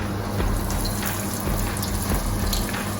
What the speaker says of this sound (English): It pops, and it's hot oil now spraying on my girlfriend while she's trying to film me make this silly cooking video.